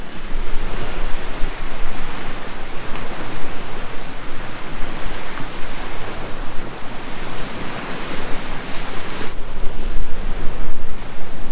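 Ocean waves off the coast of Greece roar continuously with loud surf washing in and out, mixed with gusty wind noise buffeting close by.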